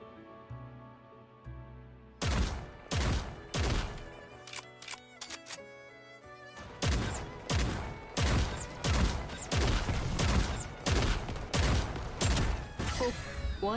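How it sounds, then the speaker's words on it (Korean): A character's shooting animation in a video game produces loud gunfire, repeated sharp volleys and rapid bursts that fill most of the stretch after a brief quieter start. "브리드도 사격 모션 한번 봅시다"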